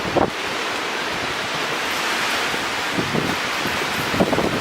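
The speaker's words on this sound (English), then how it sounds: "It's so windy." A strong windstorm gusting at around 93 km/h roars steadily outdoors, a loud broadband rush of wind buffeting the microphone with a few brief rustling swells.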